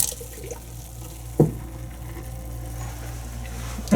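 Water gushes at very high pressure from a hotel room sink faucet under a broad hiss, with a couple of sharp knocks or clunks punctuating the flow.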